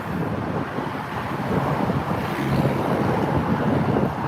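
Strong wind buffets the microphone at Bangsaen beach in Thailand while waves wash steadily onto the shore, a loud continuous roar with no pauses.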